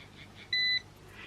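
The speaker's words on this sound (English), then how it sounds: "It goes bzz, bzz, bzz, beep." A ZIIP Halo facial device gives a single clear, steady electronic beep about a quarter second long as it powers on, standing out alone against quiet room background.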